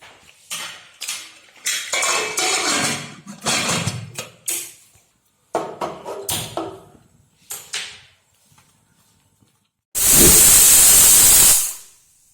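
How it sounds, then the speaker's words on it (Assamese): A pressure cooker lets off a loud steam whistle with a sharp, sustained hiss lasting about two seconds near the end. Before it come clattering pot and utensil knocks in a kitchen, with no voices. "চিটি মৰা হৈ গৈছে।"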